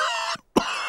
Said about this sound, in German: Dr. Braunbär hat sich mit Pedros Husten angesteckt.